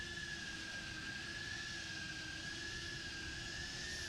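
Eachine Cvatar drone cruising slowly, its propellers giving off a steady, even high-pitched whine over a faint motor hum, with no voices.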